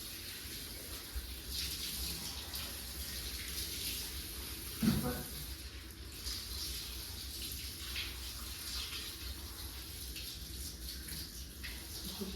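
Water runs steadily from a tap while a cocker spaniel is bathed at a grooming session, a constant splashing hiss with one brief louder clatter, and a person talks softly over it.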